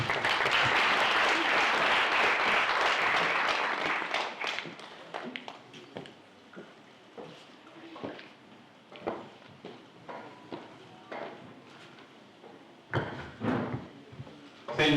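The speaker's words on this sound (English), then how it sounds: "Please, let's give her another round of applause." Audience applause at a national parks week launch event in Marakele National Park, dense and loud clapping for about four seconds, then thinning into scattered, isolated claps with a brief renewed burst near the end.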